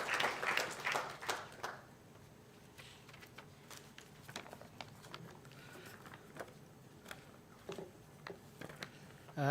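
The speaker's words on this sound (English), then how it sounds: "So one round of applause to the entire media team for putting all these things together." An audience claps at a valedictory function, a burst of applause at the start fading into scattered, thin patter that continues faintly, with a little murmuring.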